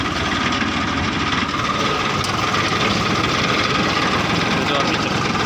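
A tractor engine drones steadily while pulling a seed drill to sow groundnuts in a monsoon field. The low, continuous rumble with vibration stays loud and unbroken throughout.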